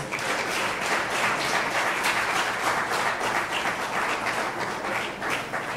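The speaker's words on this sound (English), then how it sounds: "Could we give them a round of applause?" Steady, dense applause from a large audience at a junior calypso finals in San Fernando, Trinidad, sustained and even for several seconds with no talking over it.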